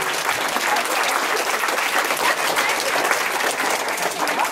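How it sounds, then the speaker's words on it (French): Sustained, dense clapping from a crowd saluting the 2011 Corsican chess champions, even and fairly loud for the whole stretch. "on peut les applaudir"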